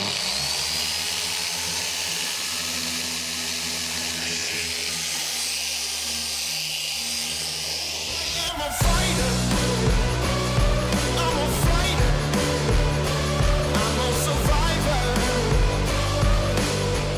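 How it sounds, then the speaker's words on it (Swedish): A car polishing machine working heavy cut compound starts up after a quieter stretch, then runs with a loud, steady mechanical whine and droning hum, its pitch wavering slightly under load. "nu startar jag den här liksom. Jag behöver inte ens hålla i maskinen hårt."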